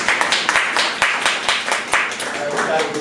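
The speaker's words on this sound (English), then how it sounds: "Is we clapping, or is we snapping?" Audience at a live podcast show clapping in loose bursts, sharp hand claps repeating irregularly at close range, with people talking over them.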